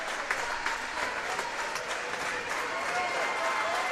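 A hometown crowd gives a sustained standing ovation at a high school boys basketball game, dense continuous clapping and cheering filling the gym as the final seconds tick down, with an announcer's voice running underneath.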